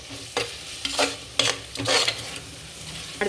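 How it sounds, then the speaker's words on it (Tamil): Chicken biryani masala is stirred in a pot with coriander leaves and lemon, giving a series of irregular scraping and sloshing strokes over a faint sizzle, close and fairly loud with short pauses between them. "நல்லா மிக்ஸ் பண்ணிக்கோங்க."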